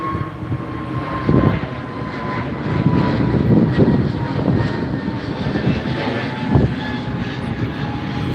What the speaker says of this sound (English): just to take a look at some of the planes taking off.